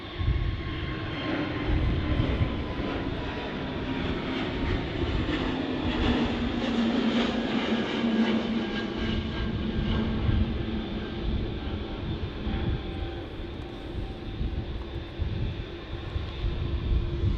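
An Etihad Boeing 787 Dreamliner arriving at Manchester Airport gives a steady, distant jet roar with a slowly falling engine tone that holds for the whole stretch, muffled and without talk.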